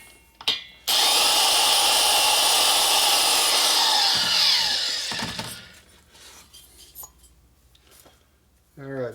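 A cutter grinds into the valve seat of a 1977 Harley-Davidson XLCR 1000cc Sportster Ironhead cylinder head, a loud, steady, harsh metallic whine lasting several seconds before tapering off, with brief clunks around it.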